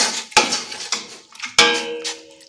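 A metal spoon clanks and scrapes against a pot while bitter leaf soup with cocoyam is stirred, with several sharp knocks and ringing clangs amid wet scraping, close and loud, with no talk.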